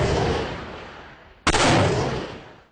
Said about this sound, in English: On the hill above, soldiers fire rockets over the civilians' heads into the city.